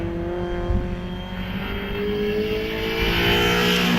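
Citroen Saxo hillclimb car with a 1398cc engine at Harewood, its engine holding a steady high-revving drone that climbs slightly in pitch, loud and fairly close, with no voices over it.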